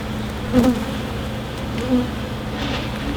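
Honeybees buzz steadily around an open hive during a pre-winter brood check, a dense close drone with a couple of louder swells as bees pass near.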